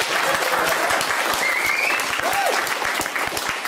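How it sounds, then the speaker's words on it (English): An audience at a sustainable-futures community event gives a speaker a hand, dense, even clapping throughout at close range, with brief whistles over it. "Give him a hand"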